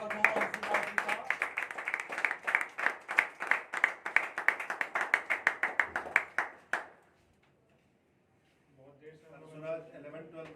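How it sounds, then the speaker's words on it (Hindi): A crowd claps loudly to welcome a guest at a motivational speaking event, a rhythmic burst of many hands lasting about seven seconds, then silence before a voice begins speaking. "चलिए एक बार जोरदार तालियों से स्वागत होगा"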